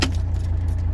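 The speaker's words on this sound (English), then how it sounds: "Car's still running." A 1979 Mercedes keeps idling, its engine a loud, steady low rumble with a faint metallic jangle at the start, heard alone for about a second.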